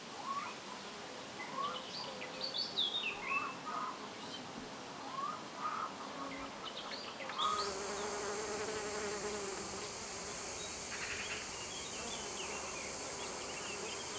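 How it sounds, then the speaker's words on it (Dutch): Bees and bumblebees buzz around blooming sunflowers grown for seed, a soft steady insect drone with birds chirping in the background, then a brighter continuous hum takes over for the second half. "vooral bijen en hommels, de bloemen bevruchten door het stuifmeel van de ene naar de andere bloem te brengen."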